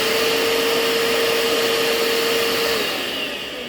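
A Hoover Power Scrub carpet cleaner runs with a loud steady motor whine and airy roar, holding a constant tone before easing off slightly toward the end.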